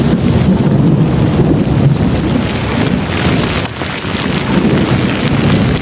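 A steady summer downpour hisses continuously and loudly, with gusty wind buffeting and a low rumbling undertone throughout.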